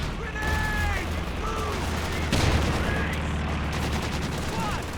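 Rapid machine gun fire from the Company of Heroes 2 real-time strategy game rattles continuously over a dense battlefield din of explosions and whistling shells.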